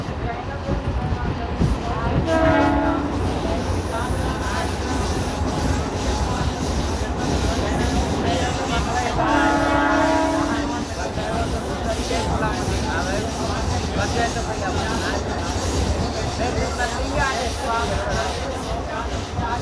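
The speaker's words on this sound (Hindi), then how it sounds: "आगे अब हमारी ट्रेन बहुत अच्छा प्यारा कर्व लेने वाली है आगे ब्रिज पे" A 3-phase MEMU electric train rolls along a curve toward a bridge on the Bandikui line, with a steady rumble, wheel squeal and rail clatter heard from on board while someone talks over it.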